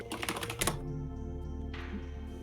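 Fast typing on a computer keyboard, a quick burst of clattering keystrokes in the first second that stops, leaving a quieter background hum and faint tones.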